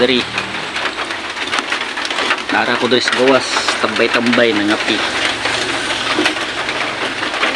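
Heavy rain pours steadily outdoors during Holy Week, a dense hiss with drops spattering nearby surfaces and birds cooing faintly, while a person talks over it.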